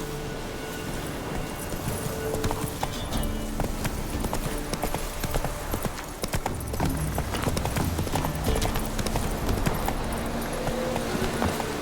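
Roach the horse trots along in The Witcher 3: Wild Hunt, Blood and Wine, with steady clip-clop hoofbeats running throughout amid game ambience and background music.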